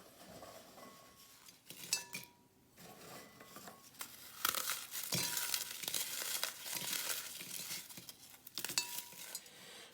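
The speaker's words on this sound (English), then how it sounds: "Just get them and crush them up into your bowl." Lotus biscuits are crushed by hand in a bowl, giving close, faint crunching and crumbling with irregular crackles, brief bowl knocks and rustles, quiet overall with no talk.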